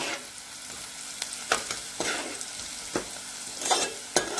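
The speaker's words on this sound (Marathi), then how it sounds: "व्यवस्थित तेलामध्ये परतून घेऊया आपण पहिलं लसूण, जिरं, मिरची, हिंग आणि कांदा" Garlic, cumin, green chili, asafoetida and onion fry in oil in a pan, a steady sizzle broken by repeated sharp scrapes and clinks of a spoon stirring, close and clear.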